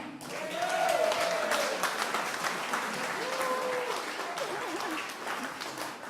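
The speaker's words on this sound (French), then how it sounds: "Je vous demande d'applaudir Déborah." Crowd applause for a local committee member at a municipal election campaign launch in Païta, steady clapping throughout with a voice speaking over it and some cheering.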